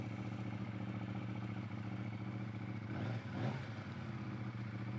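Close idling of a 2022 KTM 890 Duke motorcycle engine, a steady low rumble with a brief rev and clatter near the end, fairly faint, no voices.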